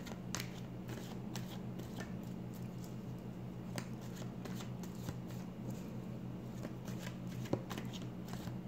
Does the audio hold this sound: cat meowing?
no